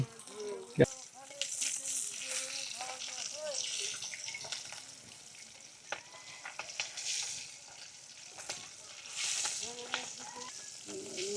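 Fish fries in a pan on a boat, a soft crackling sizzle with stirring and clinks running throughout, while people talk nearby over the cooking.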